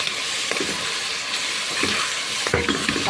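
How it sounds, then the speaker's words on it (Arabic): Head meat and onion being fried and stirred in a hot pan, a loud, steady sizzle broken by a few scraping turns from a spoon, heard close with no one speaking. "هبدا انزل بلحمه الراس اللي عندي وهقلبها كده مع البصله بتاعتي تقلبتين حلوين قبل ما احط الثوم."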